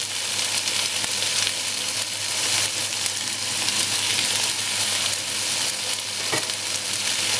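Fresh asparagus hits a hot pan and fries with a loud, dense, continuous sizzle, with a few faint knocks of stirring; no one speaks.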